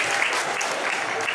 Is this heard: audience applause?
yes